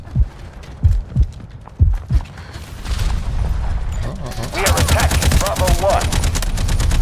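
Gunfire in the video game Delta Force, several heavy thumping shots in quick succession followed by a sustained rattling burst of rapid fire, loud and close.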